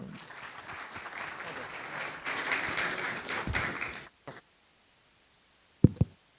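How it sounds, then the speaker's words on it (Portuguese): An auditorium crowd claps for about four seconds, a dense burst of applause that cuts off abruptly, followed by silence and two brief knocks. "Gente, uma salva de palmas para eles."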